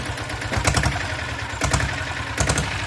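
Diesel Royal Enfield Bullet motorcycle engine revving through an aftermarket silencer, a throbbing low idle that swells in three short blips, close and loud.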